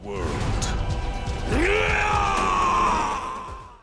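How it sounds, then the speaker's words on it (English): Ganondorf's gruesome scream from Zelda: Tears of the Kingdom, a deep groaning roar that swells into a long, strained, rising-then-falling bellow, loud and close, fading out at the end. "Ganondorf is going to make an epic comeback in Tears of the Kingdom. I mean, just listen to this gruesome scream."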